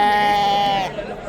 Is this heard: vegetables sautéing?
no